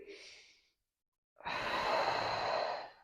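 Deep breath drawn in during a postpartum pelvic floor exercise, a soft breath at the start, then a long, loud, close inhale filling the second half with no talking.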